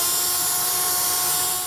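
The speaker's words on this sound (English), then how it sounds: "we're just gonna drill these out with the pilot, and then I'm gonna get my brackets underneath, eyeball those, and then we're just gonna enlarge them" A power drill enlarges holes in the metal bed of a 2022 Ram 2500 truck for base rail installation, a steady high-pitched whine running close and loud throughout.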